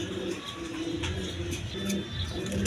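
A pair of Moslodom pigeons cooing, low throaty coos repeating in a loose rhythm close by, over a busy background with faint chirps.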